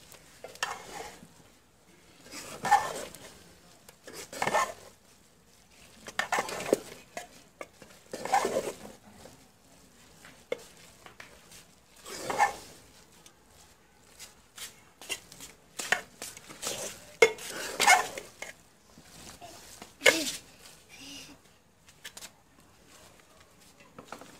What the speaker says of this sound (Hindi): इसको चावलों में मिक्स कर देंगे हम